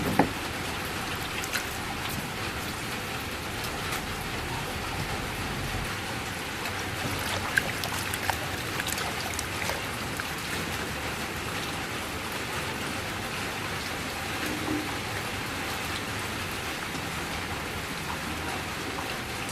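Dried sea jellyfish is rinsed under running water, making a steady, even hiss of flowing and splashing water with a few small knocks and no pauses.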